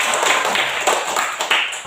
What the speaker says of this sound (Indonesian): 5 jari kanan, 5 jari kiri, digabung jadi 10 jadi tepuk tangan